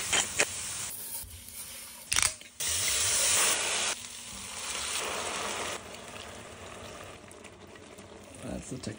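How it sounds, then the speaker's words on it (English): Loud broadband sizzling and hissing of food frying in a hot pan while making butternut squash risotto, with bursts that swell and fade, close by. "Now it's sizzling."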